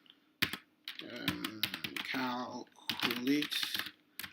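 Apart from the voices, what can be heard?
typing on computer keyboard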